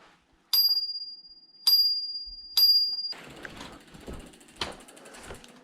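Three sharp rings of a Brompton folding bicycle bell, each a bright metallic ding decaying over about a second, followed by rattling, clicking mechanical noise from the bike.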